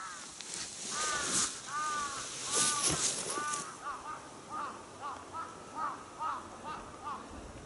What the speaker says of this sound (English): Full of crows.